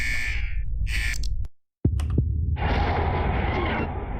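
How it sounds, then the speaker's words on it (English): An alarm blares in the video game XIII as a mission fails, a harsh sustained buzzing tone broken by a brief silence and swooshing effects before resuming loudly. "Alert! It's alarm. It's a mission failure."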